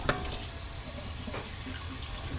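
Tap water runs steadily into a bowl holding a handful of dried wakame seaweed in a home kitchen, a continuous close splashing stream with no talk.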